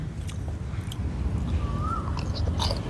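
Close, soft chewing of dried fish softened on rice, a few quiet bites and mouth sounds over a low background rumble, brief and fairly faint.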